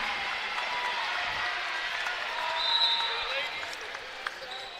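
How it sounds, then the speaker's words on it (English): Crowd applause in a gym at a high school girls basketball game, a steady, moderately distant wash of clapping with a cheer swelling briefly midway and speech blending underneath. "For some applause for the seniors."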